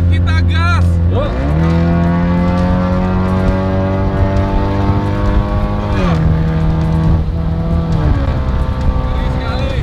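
A Ford Mustang's engine revs loudly and climbs in pitch as the car pulls away, with further rising and falling revs as it drives on; people talk over the steady engine drone.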